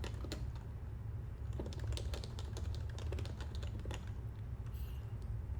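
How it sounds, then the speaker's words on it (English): Fast, continuous typing on a Topre computer keyboard, close up, with muted rounded keystrokes over a low steady room hum and no talk. "Now I have 2 Topre keyboards."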